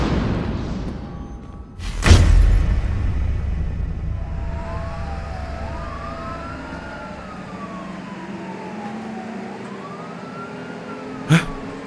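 An ambulance siren wails in rising and falling sweeps, steady and moderately loud after a heavy slam near the start, with a second sharp knock near the end and no talking.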